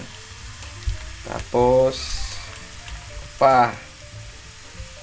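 Marinated pork ribs fry in a hot pan, with a steady low sizzle under a few words of speech and two brief louder crackling bursts as the meat is moved.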